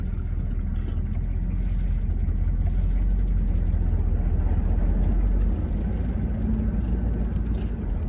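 A Chevy K10 truck engine lugging in first gear up a hill under full load: a continuous deep, low droning rumble, steady and close, without pauses.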